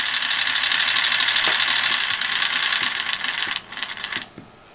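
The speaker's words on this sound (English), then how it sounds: "It's slowed the motor down." Small electric motor slowed by PWM control from a PiFace board, a steady mechanical whirring buzz with faint rattling that tapers and stops near the end, close with no talk.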